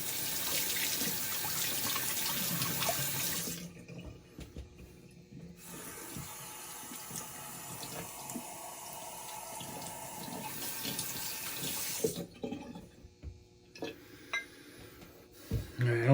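Water runs loudly from a tap at a sink during a rinse after a shave with a Henson AL13 razor, streaming steadily, cutting off twice for a few seconds, then returning with clinks and handling noises near the end.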